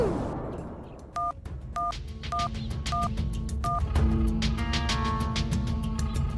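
A telephone is dialed with a run of five evenly spaced keypad tones, each brief and clear, followed by a louder wash of background noise and hum.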